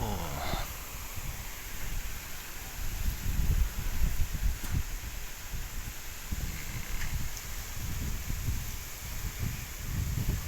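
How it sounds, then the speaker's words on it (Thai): Strong wind before rain rushes and rustles through leaves outdoors, a continuous gusting roar with buffeting against the microphone. "ลมแรงมากครับนี่"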